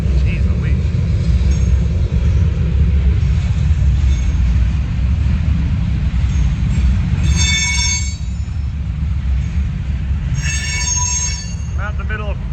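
A long freight train rolls past nearby out in open country, a loud continuous rumble of wagons on the rails with intermittent high metallic wheel squeals breaking through.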